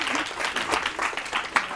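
Studio audience clapping on a Catalan TV quiz show, a brief burst of dense, even applause close up, with faint talk mixed in.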